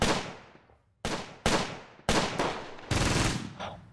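Soldiers fire guns in the war strategy game Close Combat: four loud bursts of rapid automatic gunfire, each cracking sharply and then decaying, separated by short pauses.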